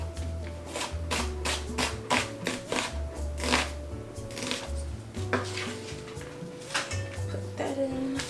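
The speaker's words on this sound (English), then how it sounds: "And we're just going to dice the onion." A knife dicing an onion on a cutting board, rapid irregular tapping chops repeated in quick bursts, close and crisp, with soft background tones underneath.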